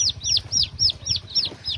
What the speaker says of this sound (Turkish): Bunlar da fizan civcivleri.